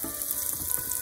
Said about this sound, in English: You're only gonna fry them for like 2 minutes each side.